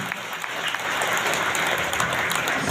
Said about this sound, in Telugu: ఇంతేనా మీరు కొట్టే చప్పట్లు?